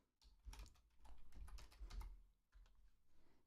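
Keys tapped quickly on a computer keyboard while writing up fantasy football picks, a close, quiet run of clicky strokes in bursts with a short pause near the end.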